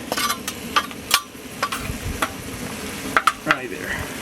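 Chopped garlic sizzles in a frying pan at an outdoor trail cooking setup, a crackling hiss broken by sharp clicks and scrapes of stirring, close and fairly quiet, with no talking.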